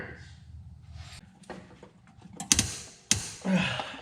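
A wrench strains against a tight bolt on a Mazda 3 manual transmission, giving a few creaking, metallic clicks and a couple of sharp cracks as it breaks loose, close and fairly loud, with some faint handling noise between.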